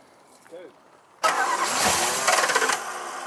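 An old barn-find car engine, carburettor primed and fuel pump on, catches abruptly after a quiet moment and runs loud and rough for two seconds before easing slightly, with a brief voice just before it fires.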